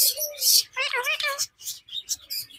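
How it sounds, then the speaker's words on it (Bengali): A talking pet parrot calls up close in a run of sharp high chirps and warbling whistled notes, with short pauses between bursts. "গ্যারান্টি সহকারে এটা কথা বলে পাখিটা, কথা বলে"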